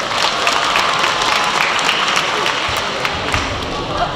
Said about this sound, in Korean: 열띤 축사되신 우리 정철 분께 다시 한번 큰 박수 부탁드리겠습니다.